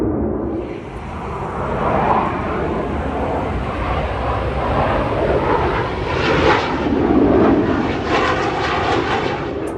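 A pair of F-5 fighter jets passes overhead as a broad, rushing roar that swells and fades over ten seconds, distant at first and building toward a louder pass, heard alone outdoors.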